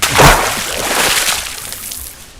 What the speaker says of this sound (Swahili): Maji yanatoka kule.